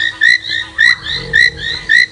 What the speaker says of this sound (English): now we're going to start hearing a lot more frogs